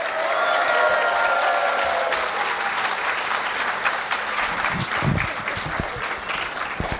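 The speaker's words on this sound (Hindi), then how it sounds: "Oh my heart, they truly need a round of applause" Parents at a school annual day for a preschool clap loudly and continuously in a large crowd, a dense sustained roar of applause that eases slightly near the end.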